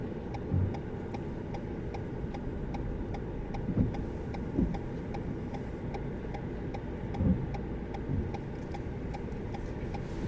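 Car turn signal indicator ticking steadily inside a vehicle on a driving lesson, a regular soft click repeating throughout over a low engine and road hum, with a few louder bumps.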